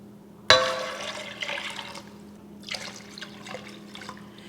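Water is poured from above into a pressure cooker holding soaked dal for a pumpkin dal dish, starting with a sudden splash and followed by a steady gush and trickle, with faint splashes continuing afterward.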